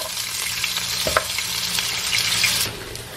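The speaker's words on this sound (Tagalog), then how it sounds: "I-sear ko muna siya. Para ano yung ilalim. Medyo crunchy." Dumplings searing in a little oil in a hot pan, gyoza-style, give a steady close sizzle and crackle with a few stirring scrapes. The frying noise fades slightly near the end.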